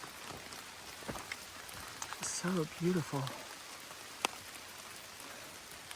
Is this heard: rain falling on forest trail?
yes